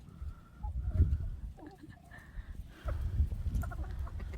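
Chickens, including black ones, cluck softly around a rural farmyard in spring, with scattered low clucks and a few brief higher calls over quiet outdoor rumble.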